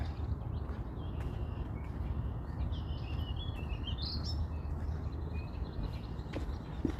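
Small birds chirp faintly at a Toronto lakeshore (Humber Bay Shores, Mimico), where ducks, geese, swans and pigeons gather; scattered high calls sit over a steady low outdoor rumble, with no talking.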